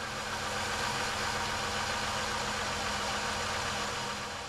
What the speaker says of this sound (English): Start the engine and let it idle until the vehicle runs out of gas.